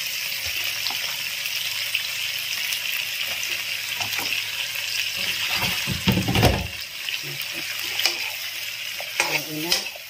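Eggplant (talong) is stirred in a frying pan, with a continuous soft sizzle, scraping and clatter of the utensil against the pan, and a few louder knocks and splashes near the middle and the end.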